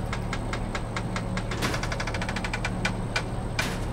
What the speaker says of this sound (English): you can see there's even different sound effect for this on the engine.